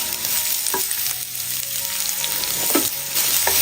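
Chopped onion frying in a hot pan with ginger and garlic for samosa filling, a steady close sizzle with occasional stirring scrapes, no voices.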